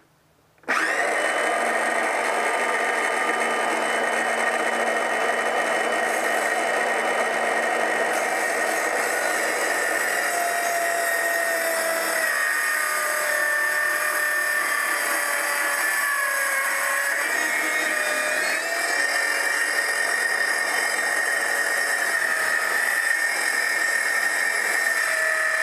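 A saw with a 1.5 mm blade cuts wood for a folding stool. A steady, loud, high whining cut starts abruptly and runs continuously for about twenty-five seconds, its pitch shifting slightly as the work progresses.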